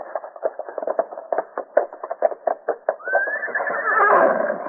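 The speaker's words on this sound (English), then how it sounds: "Here's my horse. Steady, boy." A horse whinnies near the end, a rising, quavering call that swells in loudness after a stretch of rapid rhythmic thumping and shuffling.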